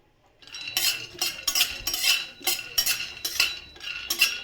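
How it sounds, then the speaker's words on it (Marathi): A spoon scrapes roasted sesame seeds out of a pan into a bowl, a near, busy run of metallic scraping and clinking strokes with no talk. "आता मी हे एका भांड्यामध्ये काढून घेते"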